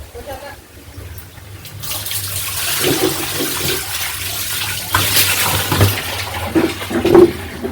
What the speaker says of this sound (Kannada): ಈ ಥರ ಪೈಪಲ್ಲಿ ನೀರು ಹಿಡ್ಕೊಂಡು